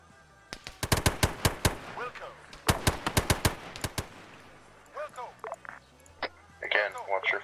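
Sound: gunfire in video game Arma 3

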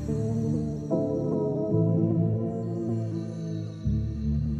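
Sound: VHS plugin tape wow and flutter degradation effect on audio

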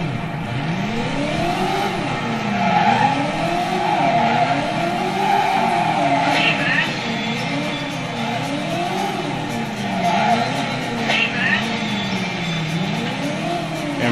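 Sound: car skidding and tires squealing in Driver video game

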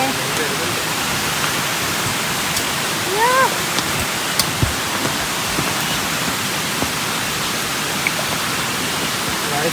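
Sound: heavy rain

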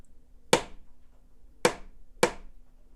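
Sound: rhythm tapped with a pen

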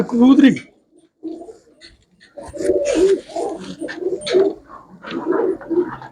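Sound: pigeons cooing

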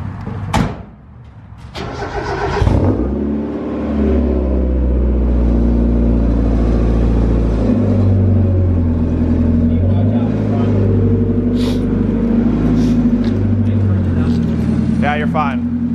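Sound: Mazda Miata car engine being driven out

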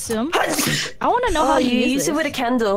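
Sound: sneeze

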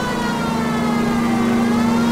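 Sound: police car siren in video game L.A. Noire

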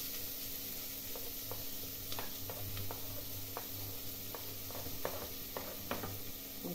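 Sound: onion frying in a pan

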